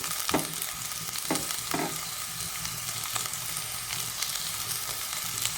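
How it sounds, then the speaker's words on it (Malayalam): Onion, ginger and garlic sauté in a pan with a steady broadband sizzle, punctuated by a few sharp scrapes and clinks of a stirring utensil, close and moderately loud with no voices. "ഇത് നമുക്കൊന്ന് നന്നായിട്ട് വഴറ്റിയെടുക്കാം."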